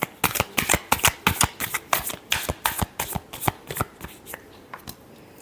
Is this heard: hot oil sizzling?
no